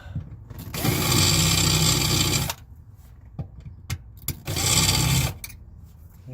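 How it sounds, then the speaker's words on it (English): A power drill bores a pilot hole into a soft RV bathroom floor, whirring steadily in two loud, close bursts of a second or two each, with quiet handling noises and a few knocks between them. "And I think I'll do a pilot hole also"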